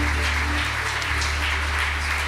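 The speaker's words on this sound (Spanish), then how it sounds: "Fuerte, fuerte ese aplauso para el Señor." A church congregation claps together, a dense, loud, steady wash of applause over a low hum, running unbroken for a couple of seconds.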